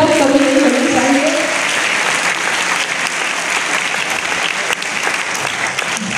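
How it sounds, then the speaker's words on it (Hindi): Sustained audience applause fills a hall at a national Red Ribbon quiz competition in Patna, Bihar, dense and steady throughout with a brief tonal voice or music trace at the start. "आपकी तालियां बजती रहनी चाहिए"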